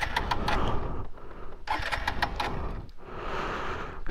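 A motorbike on a mountain valley trip cranks repeatedly without catching, three rough grinding starter bursts separated by short pauses, close and fairly loud with no talking.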